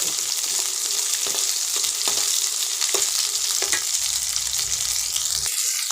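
Carrots and tomatoes sauté in a pan with green chilli and curry leaves, giving a steady close sizzle punctuated by light scraping stirs of a spoon, with no voices.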